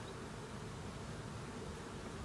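A honey bee swarm packed inside a wooden hive box gives off a steady, dense buzzing hum, close by and unbroken, with no voices over it.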